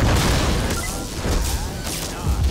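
Bombs detonate in the open-world action game Just Cause 3, a run of booming blasts and crashing bursts that rumble loudly for a couple of seconds with layered low thuds and debris noise, no voices over them.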